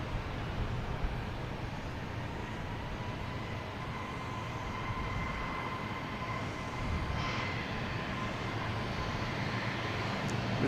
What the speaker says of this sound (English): Delta taking off on 15